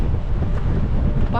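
Strong wind buffets the microphone on an open fell hike in the Lake District, a loud continuous low rumble throughout.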